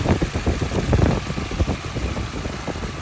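A Nissan Silvia S13's CA18DET engine idles with a misfire, its steady low rumble broken by uneven, stumbling pulses, close and loud with no talking.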